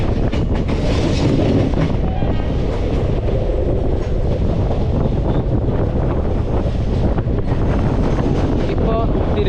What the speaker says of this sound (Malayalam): കൊച്ചുവേളി റെയിൽവേ സ്റ്റേഷനിലേക്ക് എത്തിക്കൊണ്ടിരിക്കുകയാണ് കേട്ടോ.